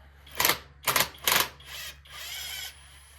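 A stubby impact wrench loosens a fastener on a 5.7 Hemi engine, hammering in three short, loud, close bursts followed by a longer, softer whirring run.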